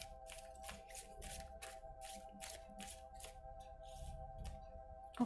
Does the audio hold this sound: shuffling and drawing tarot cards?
yes